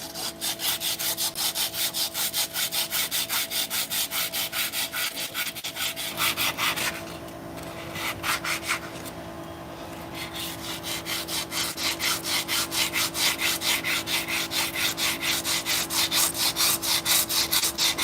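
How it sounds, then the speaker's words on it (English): Rapid, rhythmic scratching strokes of 80-grit sandpaper rubbing on wood, close and steady, with a brief slower pause midway before the brisk back-and-forth resumes. "some 80 grit sandpaper, and you just go around it."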